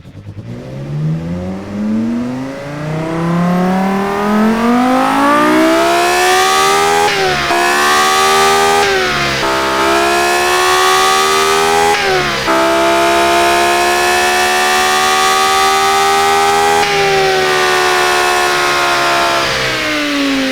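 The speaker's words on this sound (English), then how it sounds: "A V10 engine, a screaming V10 engine is always amazing to hear" A high-revving V10 engine with a tuned peak above 8500 rpm fires up and screams through repeated loud, rising revs, each climb in pitch briefly dropping before surging again, sustained and close with no talking.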